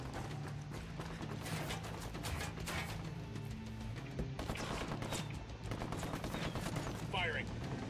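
Gunfire from Ghost Recon Wildlands on extreme difficulty comes as dense, rapid bursts of automatic shots over a low rumbling background, with faint voices underneath.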